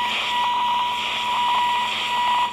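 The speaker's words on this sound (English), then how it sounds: "What is with that 1 kHz sine wave fading in and out?" A steady 1 kHz sine tone fades in and out over a dense hiss of radio static on a C.Crane CC Pocket radio, with no voices.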